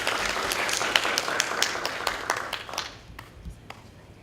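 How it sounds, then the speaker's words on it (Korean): Audience applause at a Korean business seminar welcomes a CA Technology executive presenting a Vietnam market-entry success story. The burst of clapping is steady at first, then thins and fades out over the last second or so. "큰 박수 부탁드립니다"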